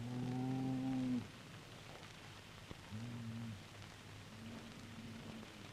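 A bull and a teaser cow on a livestock breeding station low in deep, drawn-out calls: one long loud moo, then two shorter quieter ones, over a steady patter of rain.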